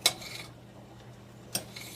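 Knife striking a cutting board while chopping ingredients for homemade mac and cheese, two sharp separate clacks about a second and a half apart with quiet kitchen background between.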